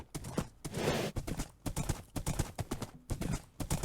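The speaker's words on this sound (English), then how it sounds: "this is the original horse. It's pretty fast" Horse hooves in Minecraft clatter in a quick galloping rhythm, close and fairly loud, with a brief breathy snort near the start and no talk.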